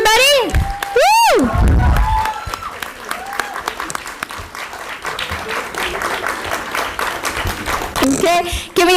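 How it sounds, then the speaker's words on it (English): Audience applause and cheering at a sustainability startup competition grand finale held at a college, with a loud whoop near the start, then steady clapping from the crowd under scattered shouts and voices. "Give them a big round of applause, everybody."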